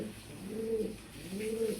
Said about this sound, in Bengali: দুইটা আনকমন এক জোড়া শার্টিন কবুতর